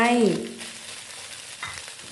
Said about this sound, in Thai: ผัดมาเรื่อยๆ ค่ะ สังเกตถึงความแห้ง ของไข่แล้วก็ส่วนผสมต่างๆนะคะ